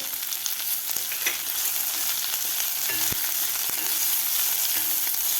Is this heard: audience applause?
no